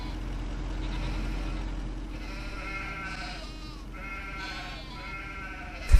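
Several sheep bleat in Farming Simulator 25, a few overlapping calls over a steady low engine-like hum, with no voices.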